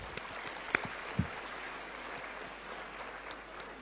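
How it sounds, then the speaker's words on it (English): An audience claps for the speakers at the close of a session at an ICAI students' conference on capital gains. The applause is a steady, even wash with no voices over it. "Please give them a very big round of applause."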